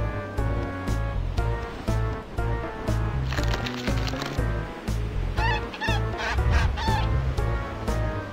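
A golden goose in a Jack and the Beanstalk video game honks in repeated bursts, loud and near, over a steady backdrop of game music and rushing sound effects.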